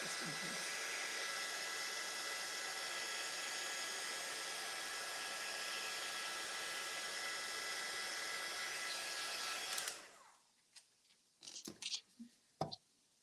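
Heat gun blowing hot air to melt clear embossing powder for a Joseph's Coat technique, a loud, steady broadband whoosh lasting about ten seconds that cuts off abruptly, followed by a few faint handling clicks and rustles.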